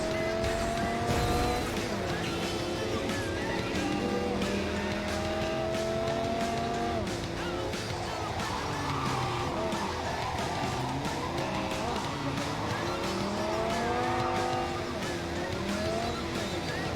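Car driving in Cyberpunk 2077, a continuous engine roar that rises and falls through gear shifts, with tire squeals and skids, steady and loud over the whole stretch.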